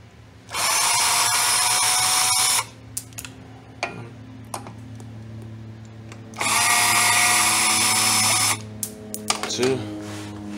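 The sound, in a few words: power tool removing screws holding down brake rotors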